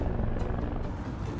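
A helicopter sound effect: a low, rumbling rotor drone with faint rhythmic thudding, steady and fairly close, with no voices over it.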